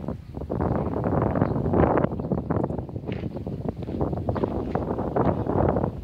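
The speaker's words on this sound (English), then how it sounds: "today is gusty wind, so it's very hard to land it" Gusty wind buffets the microphone outdoors while a ZOHD Orbit glider wing flies, a loud, uneven roar that surges and drops continuously.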